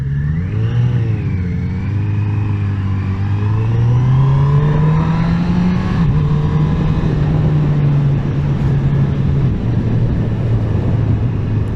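A 2021 Honda CB1000R Black Edition motorcycle engine runs loud and close on a test ride, with a steady mid-pitched drone whose pitch rises and falls through gear changes under continuous wind and road noise.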